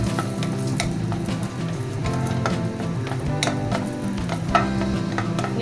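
Raisins and cashews fry in a pan over low heat, making a steady close sizzle with scattered pops and crackles and occasional stirring scrapes throughout.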